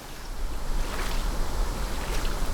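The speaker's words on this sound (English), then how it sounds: "Back amongst the rapids." Whitewater rapids on the Gordon River in Tasmania, heard from a kayak, a loud continuous rushing roar with wind buffeting the microphone.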